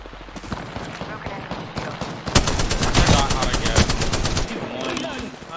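Rapid automatic gunfire in the video game Apex Legends, sparse shots at first and then a loud, dense burst of sustained rattling fire that trails off, with talking mixed in.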